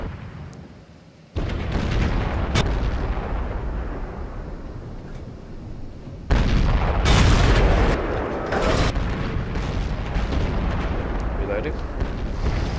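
Heavy tank cannon blasts in World of Tanks, two deep loud booms some seconds apart over constant engine and battle rumble, with sharp impact cracks between them.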